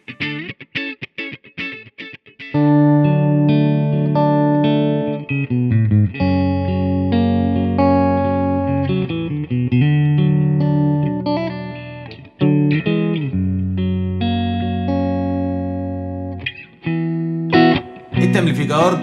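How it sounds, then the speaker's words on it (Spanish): An electric guitar played through an LHC AMPS Mini Verb tube amplifier with 6L6 and 12AX7 valves and spring reverb: a few picked notes, then loud sustained chords and riffs with a warm, slightly driven tone and ringing decay. "El Mini Verb es un amplificador que tiene el tono, el stack de tono del Badmaster Reverb y la potencia del Champ Defender."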